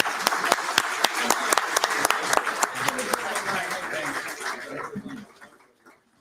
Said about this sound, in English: All right, so how about another round of applause for our excellent panel?